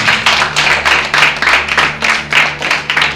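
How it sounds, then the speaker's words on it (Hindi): A church congregation claps in unison, loud, close beats in a brisk, regular rhythm with no voices. "जोरदार ताली परमेश्वर की।"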